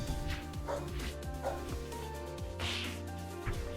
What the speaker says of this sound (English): Dog noises.